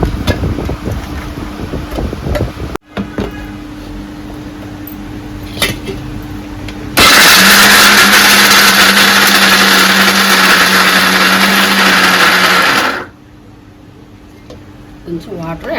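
A kitchen mixer grinder whirs loudly and steadily for about six seconds, grinding grated coconut with water to make coconut milk, starting abruptly and cutting off, with quieter background noise before and after.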